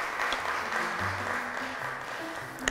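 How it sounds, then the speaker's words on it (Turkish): Applause for both tables at a quiz show, steady clapping that holds for about three seconds, with faint low voices running underneath it. "Alkışlıyoruz her iki masayı da."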